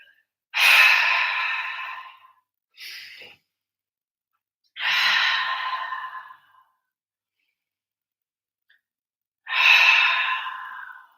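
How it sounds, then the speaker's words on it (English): Three strong breaths are exhaled through the mouth during a vinyasa yoga flow, each a long, close, airy sigh separated by quiet pauses, with a short inhale between the first two. "Take 3 strong breaths here. If you want, you can exhale through the mouth."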